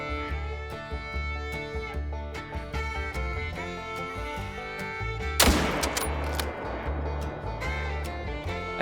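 A single loud rifle shot at a red deer in theHunter: Call of the Wild cracks out midway through steady, dense background music.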